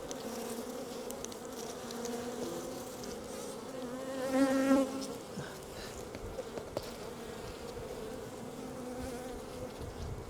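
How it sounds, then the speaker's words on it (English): Close, steady buzzing of many honeybees around a hive, a dense insect hum that swells briefly as one passes near, with no talking. "the bees keep getting in the way"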